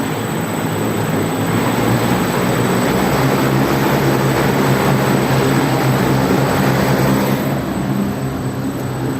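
The wind turbine of a wind energy training system spins up, producing a loud, steady whirring roar with a thin high whine running through it, unbroken and without voices.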